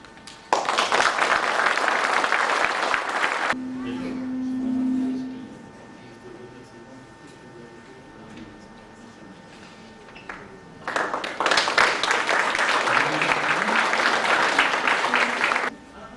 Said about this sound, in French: Et à votre nom, je peux la remercier et l'applaudir.